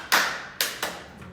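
A child claps hands on instruction, a few sharp separate claps close by with short pauses between them.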